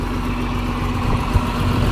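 A farm tractor engine idles with a steady, even low rumble, close and continuous, with no voices over it.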